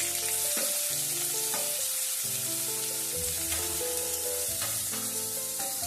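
Steady, loud sizzling of onions frying in hot oil over a low flame, with music playing over it throughout.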